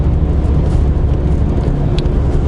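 Skoda Yeti cruising on a highway at about 110–120 km/h and 2200 rpm, a steady low engine and road drone inside the cabin, even and unbroken.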